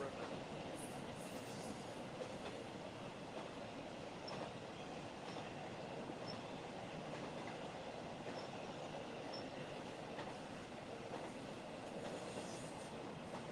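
A train rumbles past steadily beside a narrow river, wheels clattering on the rails with a constant roar and faint squeals, no pauses throughout.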